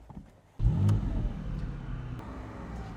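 A car engine fires and then idles with a steady low rumble as the car is turned around outdoors, loud and close, with no talk.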